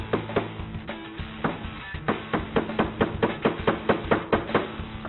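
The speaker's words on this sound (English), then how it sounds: "Now we're going to use the phone itself as a hammer." Repeated sharp knocks of a nail being hammered into plywood with a Lumia 900 phone used as a hammer, about three blows per second, steady and close.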